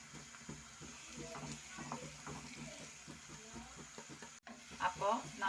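Asafoetida powder fries in a pan with ginger and green chillies for Kerala-style puli inji. A soft, steady sizzle sits under light stirring and utensil scrapes, quiet and close, with a voice talking briefly.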